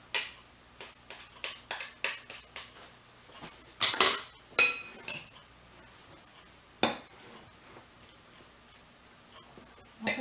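Utensil clinks and scrapes in a bowl as beef stuffed cabbage filling is stirred, a run of quick close taps and knocks with a few louder scrapes and short pauses, no talking.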